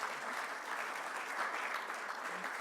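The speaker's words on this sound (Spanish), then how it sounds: "un aplauso a eso" Steady applause from a church congregation during a Sunday service, a dense even wash of clapping with no voices over it, lasting a few seconds.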